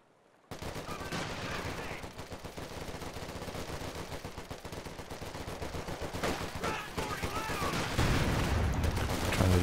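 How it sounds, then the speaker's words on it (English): Bazookas firing at a sandbag position in the strategy game Company of Heroes 2, heard within a dense, continuous battle din of rapid shots and bursts that grows louder toward the end. "Trying to destroy the sandbag with his bazookas"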